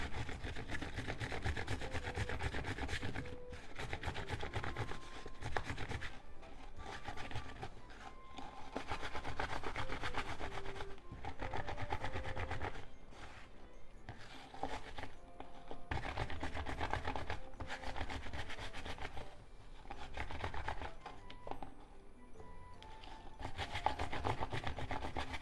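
Fresh okra pods rolled with sprinkled salt on a board, giving a steady close rubbing and rolling sound in repeated strokes with brief pauses, no talking.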